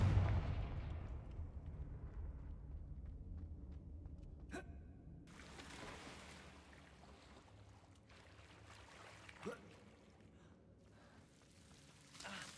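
In the video game Hogwarts Legacy, a Confringo blasting curse goes off with a loud burst that quickly fades into a low rumble, followed by faint scattered pops and crackles.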